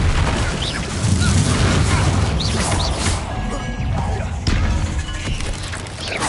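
Spell blasts crack and boom through a duel in Hogwarts Legacy, including an explosive Confringo, with heavy rumbling impacts and whooshing bursts layered densely throughout and no voices heard.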